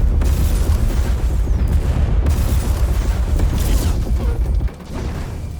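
Warship guns open fire in a Warhammer 40,000 video game, a loud, continuous barrage of deep booms and rumbling blasts that drops away abruptly near the end.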